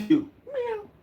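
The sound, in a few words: person imitating a cat meow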